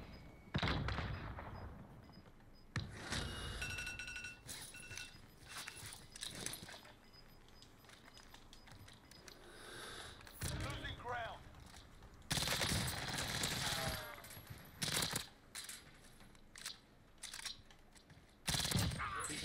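Rapid bursts of DMR-14 rifle fire in a Call of Duty: Warzone match, loud and sharp, coming in repeated volleys with quieter gaps between them across the stretch.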